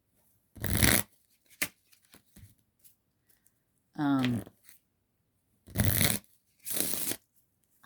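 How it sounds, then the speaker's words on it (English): Playing cards riffle in several short bursts separated by pauses, close by, with a brief spoken word in between. "like cards, I like to shuffle."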